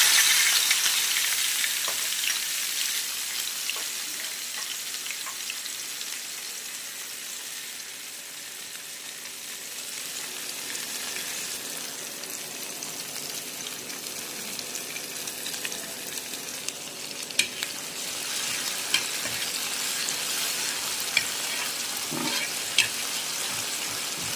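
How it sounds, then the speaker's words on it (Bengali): Crushed garlic and green chillies go into hot oil alongside jackfruit seeds, giving a loud, continuous sizzle with occasional stirring scrapes that settles into a steady fry. "রসুন কাঁচামরিচ থেতো করে নিয়েছি এগুলো তেলে দিয়ে দিলাম"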